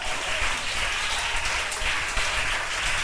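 A church congregation applauds in sustained, dense clapping that stays steady and fairly loud throughout, with no pauses.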